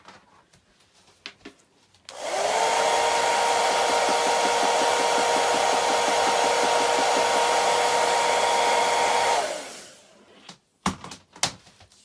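A hair dryer on its cool setting runs steadily for several seconds with a loud, even whirring hum, then switches off, followed by a few light clicks and taps.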